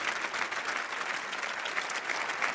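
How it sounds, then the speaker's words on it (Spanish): An audience at a round-table discussion gives a dense, continuous round of applause. The clapping is steady and fairly close, with no talking over it. "dedicad por favor un aplauso a Agustín."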